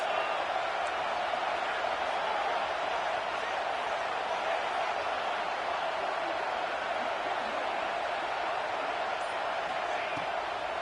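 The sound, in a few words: stadium crowd noise at American football game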